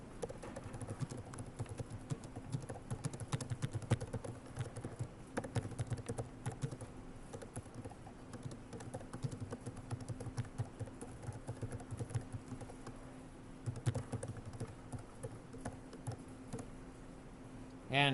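Rapid clicking of computer keyboard keys runs throughout, with a steady stream of quiet, uneven keystrokes over a low hum.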